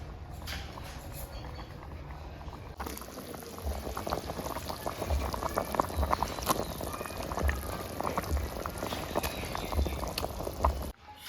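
Dal curry with lentil fritters bubbles over low heat in a soft, steady simmer of small pops and gurgles. It sounds close but quiet, and grows a little busier partway through.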